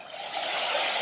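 Ocean setting on a cheap Temu sound machine, a steady broad wash of surf-like noise that gently swells louder, close and alone.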